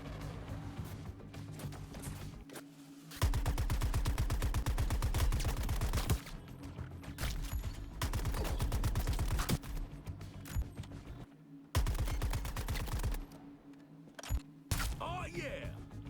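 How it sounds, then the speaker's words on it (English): Sustained bursts of automatic gunfire in the video game Suicide Squad: Kill the Justice League, several long rapid volleys separated by short pauses, with a voice talking over parts of it. "Alright, let's shoot these guys."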